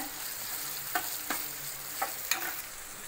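Tomato and curry leaves frying in a pan for broken wheat upma, a soft steady sizzle with four light scraping strokes of a stirring spoon spaced across a few seconds.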